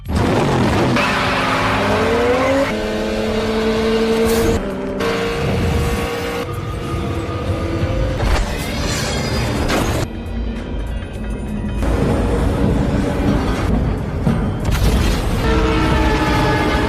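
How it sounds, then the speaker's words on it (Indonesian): Cars in a street race crossing railway tracks in the film The Fast and the Furious: loud, continuous roaring engines with screeching tires and mechanical bursts, shifting in intensity throughout. "mereka berdua langsung memutuskan untuk balapan dan melintasi rel kereta api"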